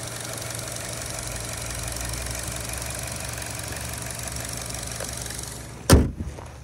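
A 2011 Chevrolet Cruze LTZ with an Ecotec engine idles quietly, a steady low hum with no talk, ending in a sharp click or thump near the close.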